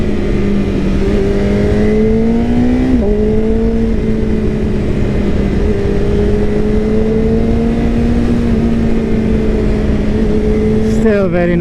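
A 2023 BMW S1000 RR sport motorcycle roars steadily while being ridden, its loud engine note climbing and dipping through revs and gear changes under constant wind noise.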